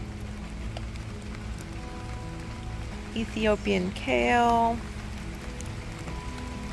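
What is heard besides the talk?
rain falling in a garden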